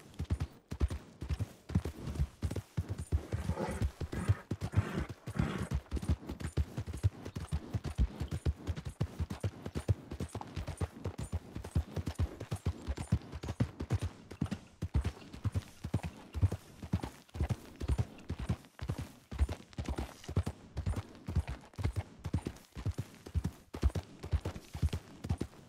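Horse hooves clip-clop in a steady, rapid rhythm throughout as a horse travels in the western video game RedM, the beats clear and fairly close with no talk over them.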